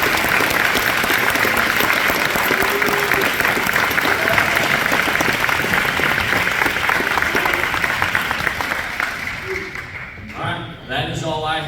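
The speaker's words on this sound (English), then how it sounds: "Give a round of applause for Dad Lundy." At a school fall football and cheer awards night, the crowd gives sustained, loud applause for about ten seconds before it fades and a voice begins talking.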